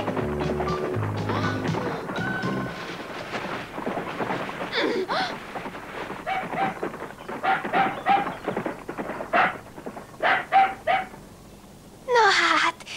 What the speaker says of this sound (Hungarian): Na hát, hiszen ez csak egy kis kutya.